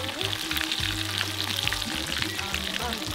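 Garlic frying in a pan at a Jamaican riverside street food spot, a steady loud sizzle with bubbling crackle and low background clatter throughout.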